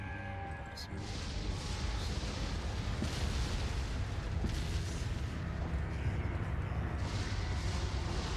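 Cannon fire in Resident Evil 4 sits inside a dense, continuous wash of game noise, with deep booms and bursts running steadily through the mix rather than standing out as clear single shots.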